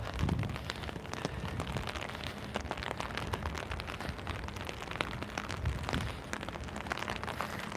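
Rain falling outdoors, a steady hiss of drops with scattered louder splats and occasional low thumps throughout.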